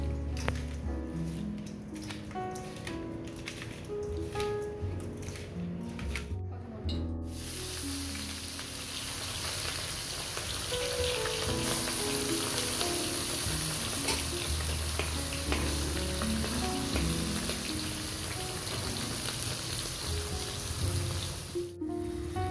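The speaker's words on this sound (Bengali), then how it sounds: "নিয়ে মাছটা এবার ভালো করে একটু ভেজে নেব।" Moya fish frying in hot oil: a softer start gives way to a steady, dense crackling sizzle that carries on without pause, fairly close, with no talking.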